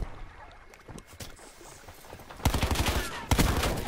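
Call of Duty Blackout gunfire: sharp rapid shots at a moderate distance, rising into two dense, louder bursts near the end, over game background noise.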